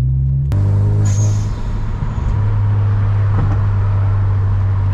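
A Hyundai Genesis Coupe fitted with an HKS exhaust rumbles while driving, a loud, deep, steady exhaust drone that swells briefly as the car pulls along.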